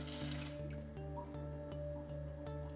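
A Bio Bidet BB-1000 nozzle sprays its front feminine wash: a steady watery hiss over a constant motor hum, with soft regular pulses roughly every half second.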